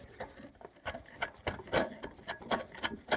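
Narex chisel being sharpened on coarse sandpaper in a woodworking shop, a close, dry rasping rub repeated in roughly a dozen uneven back-and-forth strokes.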